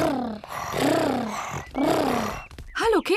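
Cartoon characters from Peppa Pig vocally imitating a tiger's purr, several drawn-out rolling growly voiced sounds in close succession, loud and near, ending with a higher playful vocalization.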